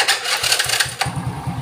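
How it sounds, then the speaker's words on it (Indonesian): Honda Astrea Grand motorcycle being electric-started: a brief starter whir cranks the engine and it catches into a close, steady idle putter, all within under two seconds. "Coba tak matiin, tak starter lagi guys."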